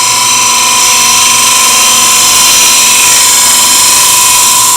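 End grain hollowing tool cutting into a spinning wood workpiece on a lathe, a steady loud hissing, whining cut with a constant high tone, continuous and alone without talk.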